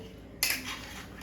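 A spoon mixing whole cumin into butter chicken in a pan gives one bright metallic clink and a short scrape over a low background hum.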